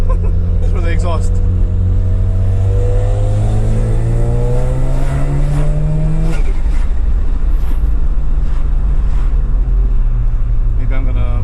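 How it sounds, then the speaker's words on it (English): Mazda RX-7 exhaust heard from inside while driving, a loud rotary drone rising in pitch under acceleration, dropping at a shift, then settling into a steady cruising hum. "Maybe I'm gonna lift the window up so you can hear the exhaust noise better"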